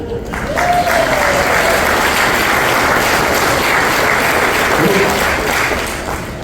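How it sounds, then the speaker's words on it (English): Steady, loud audience applause fills a Hall of Fame induction ceremony hall, sustained clapping from a large crowd throughout with a faint voice briefly over it. "give him a good hand"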